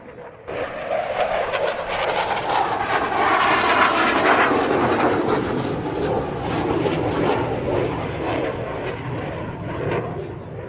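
An F-16 fighter jet roars loud and close during takeoff and flight, a dense sustained engine rumble that swells in the middle and holds strong for about ten seconds.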